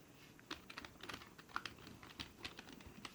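Typing on a USB keyboard plugged into a smartphone through an adapter cable, a quick uneven run of soft close key clicks in a quiet room.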